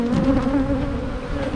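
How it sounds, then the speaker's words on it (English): Honey bees buzz loudly around an opened beehive, a dense, continuous close-up drone with a steady pitch and no talking. "Oh, there's so many bees up here."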